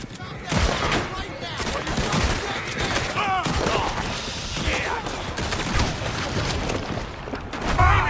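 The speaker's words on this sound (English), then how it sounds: "Shoot them, Arthur, before they blow us to high hell" Gunfire in the video game Red Dead Redemption 2: dense, continuous rapid shots and crackling bursts throughout, close and loud, with voices shouting among them.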